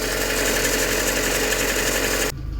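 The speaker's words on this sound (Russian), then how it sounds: "Сейчас движок прогреется и еще будет лучше слышно." VAZ 2112 car engine idling while it warms up, a steady, dense mechanical drone heard close and loud, with a slight change in tone near the end.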